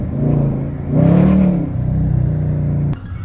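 Dodge Challenger R/T Hemi with a tuner fitted, heard from inside as the engine revs up in one strong surge, a close, loud rumbling roar that swells, holds briefly and then eases back.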